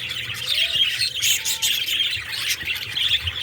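Parakeets in a breeding box holding six eggs chirp and squawk continuously, with busy, overlapping high tweets close by and no talking.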